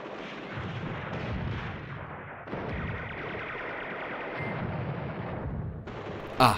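Artillery fire from batteries in the Command Ops 2 war game, set at the Battle of Elsenborn Ridge, makes a steady rumble of booming shots and crackle, loud and continuous with no talk, ending in a sharp burst.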